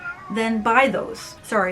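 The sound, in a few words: cat meowing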